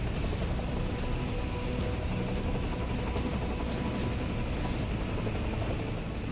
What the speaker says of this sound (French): Poser un hélicoptère sur un navire est déjà un exploit délicat en aviation.